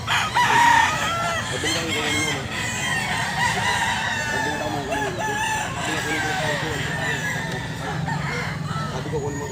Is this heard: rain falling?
no